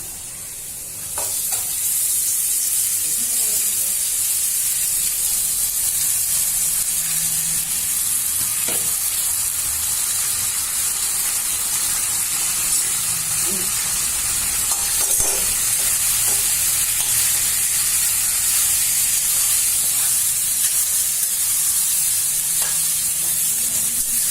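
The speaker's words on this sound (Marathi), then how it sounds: "बटाटे लाल झालेत मस्त भिजले आता आपण त्याच्यात साबुदाणे टाकू" Sago pearls go into fried, browned potatoes in a hot pan, giving a steady, close sizzle that lasts throughout, with occasional soft scrapes from stirring and no talking.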